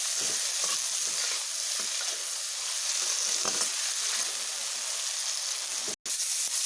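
Sliced ridge gourd fries with salt in a hot pan, giving a steady close sizzle and crackle that runs throughout, cut by a brief dropout near the end.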